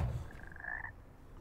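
A single frog croak in Hogwarts Legacy, a short raspy call over low background rumble, fairly faint.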